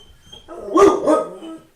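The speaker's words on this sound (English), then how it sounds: "my dog's having a moment" A dog at home lets out two close barks, the first sharper and the second slightly drawn out, after a few soft whines.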